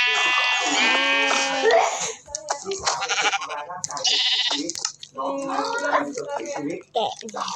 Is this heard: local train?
no